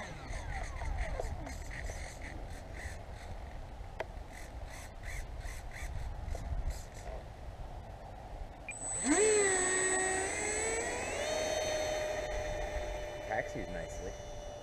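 Concept X small jet taxiing on the ground, its turbine rising into a steady whine with climbing tones partway through, over a constant rumble, with people talking nearby.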